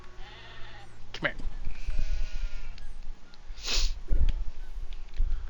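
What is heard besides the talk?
sheep bleating in a video game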